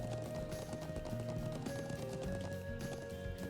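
Horse hooves clip-clopping at a gallop in the video game Trails of Cold Steel, a dense rapid drumming rhythm under game music that stays steady and fairly quiet throughout.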